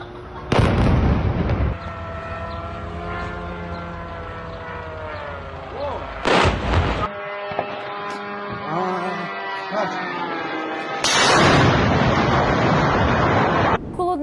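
Drone strike explosions hit the Signal radio-electronics factory in southern Russia: three heavy, broadband blasts roughly five seconds apart, the last one long and rumbling, with tonal voices or music sounding between them.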